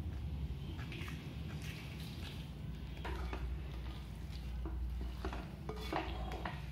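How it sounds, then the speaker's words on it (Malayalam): Grated coconut is stirred into a pot of Onam-style kootu curry with jaggery, giving soft scraping and occasional clinks of a spoon against the pot over a low background hum, no talking. "തേങ്ങനെ നന്നായിട്ട് മിക്സ് ചെയ്തെടുക്കാം."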